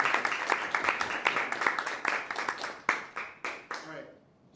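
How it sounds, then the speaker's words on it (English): An audience at a tech meetup claps in a scattered burst that thins out to a few last isolated claps, fairly quiet and heard from a distance in the room. "Let's clap again"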